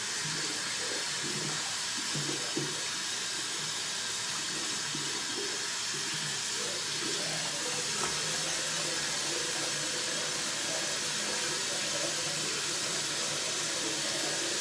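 Tap water runs steadily into a sink while a razor and shaving brush are rinsed, a continuous broad hiss with faint clinks and splashes, close and even throughout with no talking.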